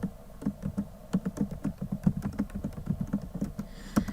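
Rapid, steady typing on a computer keyboard, close and fairly loud, a continuous patter of key clicks with no voice over it.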